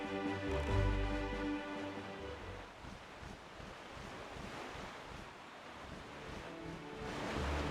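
Ocean waves and rushing wind while sailing a boat in the video game The Legend of Zelda: The Wind Waker, a steady broadband wash with low rumble, continuous and fairly quiet.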